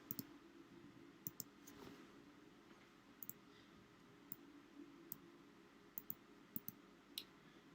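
A computer mouse clicks a handful of times, faint and sharp, the single clicks spread unevenly over a low steady hum.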